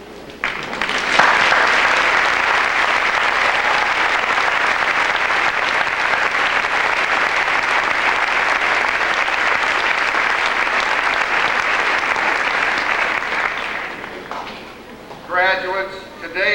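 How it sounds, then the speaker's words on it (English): Sustained applause fills a 1992 high school graduation ceremony in Seneca, Illinois, as graduates clap for their parents, a dense steady roar of many hands lasting over ten seconds before fading, with a voice starting at the close. "allow your sons and daughters, our graduates, and the family of the land of the Irish, and all of our friends here today, applaud you"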